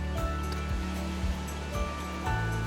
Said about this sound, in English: Atlantic waves entering the cave generate haunting melodies that change with tides and weather patterns